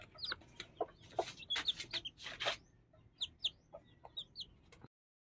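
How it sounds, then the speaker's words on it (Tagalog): Newly hatched baby chicks peep in short, high, rapid chirps that repeat in bursts close by, with soft background noise and no talking. "nandito yung ating mga sisiw"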